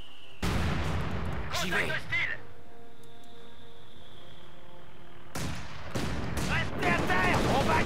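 Gunfire and artillery blasts in the World War II strategy game Company of Heroes 2, with loud bursts of shots at the start and again near the end, a quieter stretch between them, and French voices speaking briefly.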